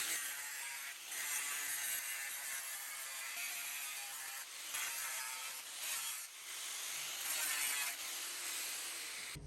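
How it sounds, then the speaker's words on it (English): A sanding disc, abrasive pad and flap disc deburring the sharp edges of a thick cast transfer case during a rebuild for an 80/100 Series, giving a steady, high-pitched abrasive grinding with short pauses and no talking. "we'll come in here with a sanding disc and a Brillo pad style disc and then like a little flap disc and deeper all these edges"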